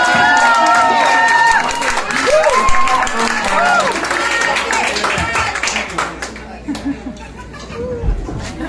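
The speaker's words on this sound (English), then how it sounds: "Un aplauso para Andy, por favor." Audience at a Latin music gig in Seattle's Sea Monster Lounge breaks into close, loud clapping and cheering for a performer named Andy, with whoops and chatter mixed in, thinning toward the end.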